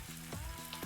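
A turmeric-spiced cauliflower steak sizzles steadily in a hot frying pan, a close, continuous crackling hiss with faint scraping bursts as it is turned, no voices.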